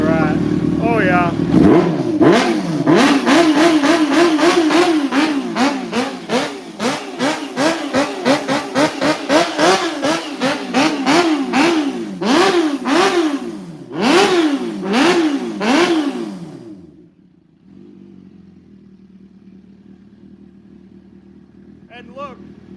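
Kawasaki Ninja ZX-10RR motorcycle engine revved repeatedly up close, with sharp rising and falling blips over a rough idle, dropping to a quieter idle near the end.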